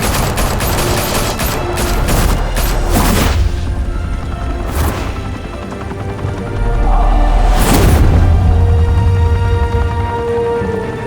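A volley of gunfire from a shootout in Telltale's Batman game, with a rapid burst of cracking shots at first and then scattered single loud blasts and booms against a rumbling, smoky backdrop.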